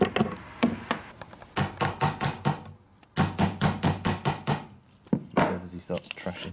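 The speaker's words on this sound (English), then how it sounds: "then we get the Mark 1 lump hammer" A lump hammer strikes a part of a Swiss K31 rifle in repeated rhythmic bursts of sharp metallic blows, loud and close, with brief pauses between volleys.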